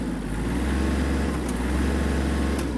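A Kubota GL-25 Japanese mini tractor's small diesel engine runs steadily at close range, a continuous low rumble with a faint higher rattle and no talk over it.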